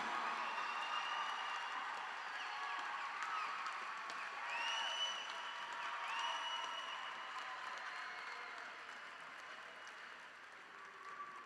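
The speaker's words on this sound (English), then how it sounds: "please give one more big round of applause to the graduating class of Mozart Early College 2022" A large crowd at the Mozart Early College 2022 graduation ceremony applauds the graduating class, with sustained, distant-sounding clapping and a few faint cheers and whistles that slowly taper off.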